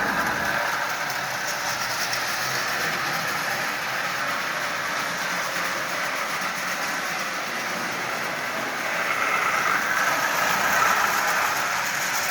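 A Marx Santa Fe 1095 model train with a retrofitted double reduction motor runs along its rail, a steady close hum and rumble that stays even throughout and swells a little near the end, with no voices.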